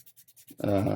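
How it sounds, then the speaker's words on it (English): Resin model kit parts being sanded during cleanup for a 1/4-scale custom Wolverine figure: short, soft rubbing strokes in a quick series, then a louder, steadier scrape of sandpaper on resin close by. "as soon as you start sanding it, little things pop out"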